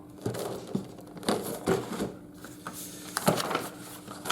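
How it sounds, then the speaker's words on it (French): Sheets of paper from a model car kit rustle and crinkle close by in short, irregular bursts, with quieter handling sounds in between. "ça fait un peu de bruit le papier"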